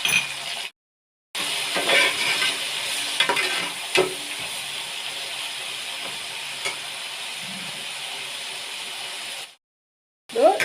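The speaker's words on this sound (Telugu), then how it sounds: "టమాటా తొందరగా ఉడకడానికి స్పూన్ తిప్పేస్తున్నాను." Tomatoes sizzle in a pan for a Nellore-style fish pulusu while a spoon stirs them, a continuous close frying hiss with occasional metallic scrapes and clinks, opening and closing on short silences.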